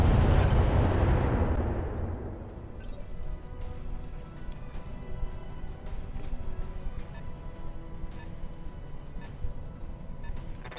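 An airstrike in the mech game Roguetech opens with a heavy rumbling blast that fades over about two seconds, followed by scattered distant crackling impacts and debris under a low continuous rumble.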